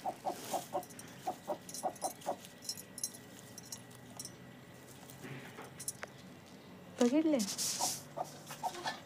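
A hen guarding her eggs clucks in a rapid run of short, close calls, then gives a louder drawn-out squawk near the end, with someone speaking in between.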